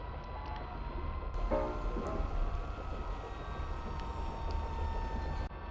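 Interior of a moving train in The Charnel House Trilogy game: a steady, close rumble of rolling carriage noise with faint ticking and rattles, continuous throughout with no voices.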